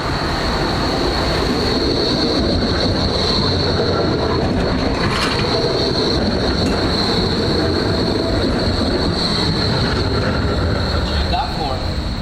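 A train runs on rails with steady loud rumble and rattling wheels, plus a persistent high squeal throughout, close and continuous with no pauses.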